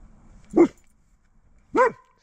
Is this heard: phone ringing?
no